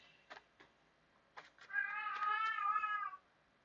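A real cat lets out one drawn-out, fairly loud meow lasting over a second, after a few faint short clicks and chirps, with no talking.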